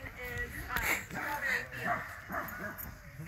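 A dog in a backyard lets out short barks and high whimpering yips in uneven bursts, fairly faint, with a human voice murmuring underneath.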